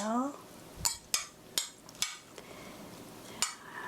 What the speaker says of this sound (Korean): 올리브 오일 1 테이블 스푼 넣어서 면이 보이지 않게 이렇게 넣으시고요 고루 섞어주세요